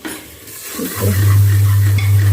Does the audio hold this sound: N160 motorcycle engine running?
no